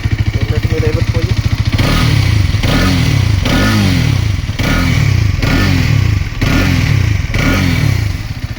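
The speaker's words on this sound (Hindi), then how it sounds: "Let me rev it for you." An Xtreme 250R motorcycle with 12,000 km on it starts idling, then revs repeatedly in short bursts, each throttle blip rising and falling, loud and close.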